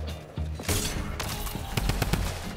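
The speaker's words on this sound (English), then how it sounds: "Somebody's definitely shooting you down right now." Rapid bursts of video game gunfire in Fortnite, sharp repeated shots crackling in quick clusters over a busy background, fairly loud throughout.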